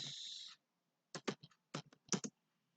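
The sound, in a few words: typing a switch interface command on a computer keyboard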